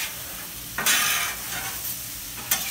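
Beef is tossed with a spatula on a Camp Chef flat top grill, giving close scraping strokes and sharp metal clicks over a steady sizzle, with no talk.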